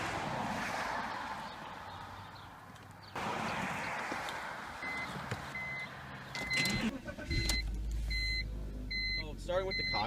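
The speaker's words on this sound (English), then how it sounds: "today we're going to start it up, get an exhaust clip" A 2003 BMW 325i sedan idles outdoors with steady engine and exhaust rumble, a sharper burst midway as it starts up, then beeps and clicks from the car near the end, with faint talk in the background.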